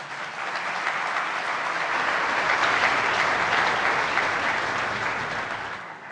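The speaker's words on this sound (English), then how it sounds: "please applaud yourselves." A crowd applauds continuously at the Raisina Dialogue opening, a dense wash of clapping that swells and then slowly fades.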